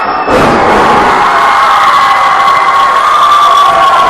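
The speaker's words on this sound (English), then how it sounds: "This crowd is electric." A wrestling arena crowd roars with loud, sustained cheering and shouting, a thump near the start before the noise swells and holds steady throughout.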